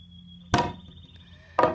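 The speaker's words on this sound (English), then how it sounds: "hold it there, and then I'll pound it with my hammer" Two loud, sharp hammer blows strike something in a barn, about a second apart, close to the listener with a brief ring after each impact.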